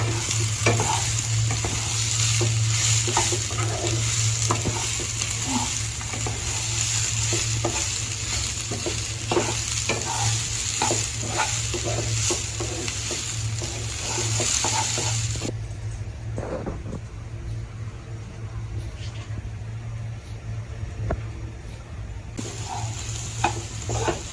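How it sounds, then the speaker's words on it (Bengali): Uncooked rice fries and is stirred in a pan during simple village cooking, giving a steady, close sizzle broken by repeated scraping stirs that carries on for the whole stretch without voices. "তো এখন আমি এই চালটা ভালো করে ভেজে নিব।"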